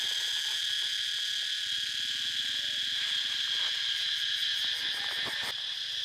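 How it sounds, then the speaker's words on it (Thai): Cicadas chirp in a garden, a continuous high, shrill buzzing drone that stays even and fairly loud throughout, with faint pulsing underneath. "มีเสียงจักจั่นพร้อม เย้นเย้นเย้น"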